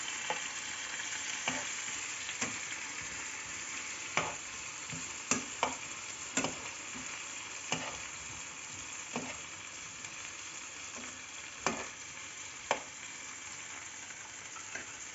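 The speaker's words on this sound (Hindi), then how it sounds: "फ्राई और हिलाएं" Mixed vegetables fry with spices for khichdi, a steady sizzle of hot oil broken by regular scrapes and knocks of a stirring spoon against the pot every second or so, close and alone without talk.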